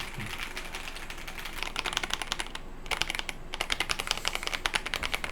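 Rapid clacking of keys on a mechanical keyboard, a steady close-up patter with one brief pause midway.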